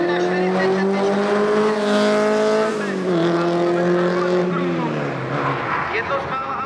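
Škoda 130 RS rally car at the Hothess Mikuláš Rally 2019, engine roaring loudly at high revs with pitch dropping through gear changes, close and continuous, with a voice speaking over it.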